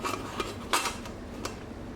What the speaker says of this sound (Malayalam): കുക്കറിനെ മൂടി അടച്ച് വെച്ച് കൊടുക്കാം.